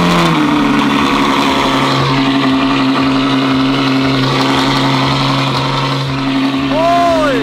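A Ferrari FF engine roars loudly with a sustained, throaty rumble close by that holds steady for several seconds, then rises in pitch as it revs near the end.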